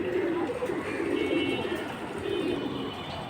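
A pair of flyer pigeons, one with a brown neck, coos softly in a low, rolling murmur that continues steadily at close range.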